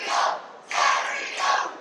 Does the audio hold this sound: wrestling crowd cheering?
yes